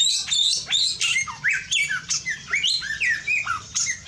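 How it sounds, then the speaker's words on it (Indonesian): Birds in a backyard aviary squawk and chirp busily, with loud, rapid, overlapping calls rising and falling in quick bursts close by. "burung-burung sehat, burung-burung berkicau riang"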